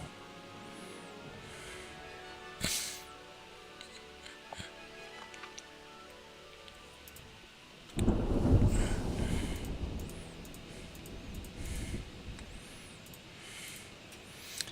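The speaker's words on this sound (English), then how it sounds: "Oh, it's a storm." Thunderstorm ambience in the naval strategy game Ultimate Admiral Dreadnoughts: steady rain and wind hiss with a sharp crack near the start and a loud rolling thunder rumble swelling midway, then easing back to rain.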